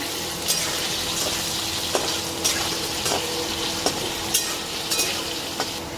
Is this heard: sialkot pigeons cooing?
no